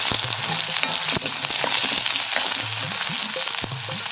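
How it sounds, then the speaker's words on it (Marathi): Dried red chillies fry in hot oil with curry leaves, a continuous close sizzle with crackling pops and faint scraping throughout. "यात टाकूया आपण दोन सुखी मिरची आणि ते फार छान आहे तो याला गोल्डन ब्राऊन होईपर्यंत छान तळून"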